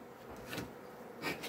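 A honeybee buzzes in short swells, rising and fading as it passes close by, brief and fairly faint with no talking.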